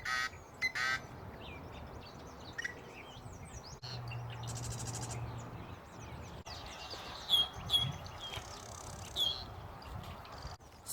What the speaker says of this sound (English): why are these birds calling?